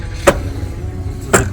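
Two sharp plastic clicks, about a second apart, as aftermarket wheel caps are pushed into place on a Tesla Model Y, close up over a low outdoor background rumble.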